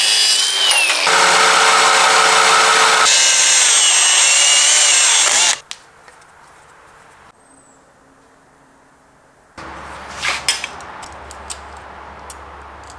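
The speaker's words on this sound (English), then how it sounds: "then we'll drill and tap this hole" A loud power drill runs steadily for several seconds drilling a hole in a Toyota Tacoma transmission for a transfer case, then stops; quieter scraping and metallic tapping follow, with brief clicks near the end.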